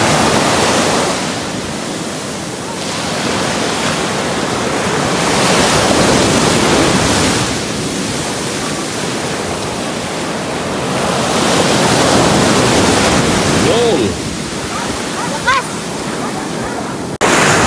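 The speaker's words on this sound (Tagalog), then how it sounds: "ang lalakas ng alon dito" Loud ocean surf roars continuously, swelling and easing as waves break, with occasional faint voices in the distance.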